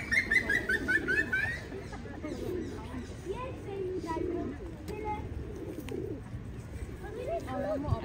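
Pigeons in a London park, with soft repeated cooing running low and close throughout and a brief burst of higher chirping near the start.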